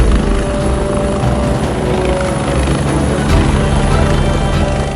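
A helicopter flying at high altitude around Kedarnath in Uttarakhand makes a loud, steady, dense rotor and engine roar that fills the whole stretch without a break.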